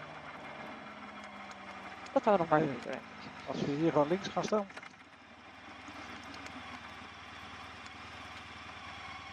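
A motorcycle engine idles in a steady low drone, with someone speaking briefly over it before the idle carries on alone.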